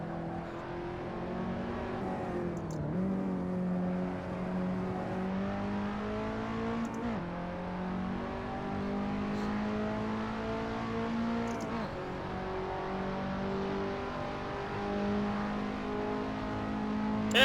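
A racing car's engine drones and revs continuously in the Assetto Corsa VR driving game, its pitch climbing in repeated gear-by-gear sweeps, each ending in a short drop at the shift.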